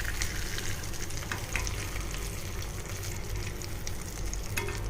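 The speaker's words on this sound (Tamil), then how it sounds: "இதில் இந்த சிக்கன் பீசஸை போடணும். பொன்னிறமாக வர வரைக்கும் பொரிச்சு எடுக்கணும்." Chicken pieces deep fry in hot oil for crispy tenders, giving a steady, dense sizzle and crackle that stays loud and even throughout, with no talking.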